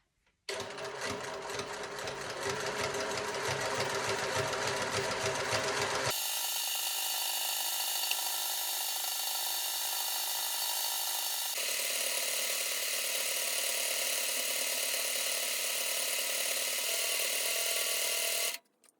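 A sewing machine stitches a jute rope basket, giving a steady, continuous mechanical whir for about eighteen seconds. Its tone shifts twice as the sewing speed changes, with no talking.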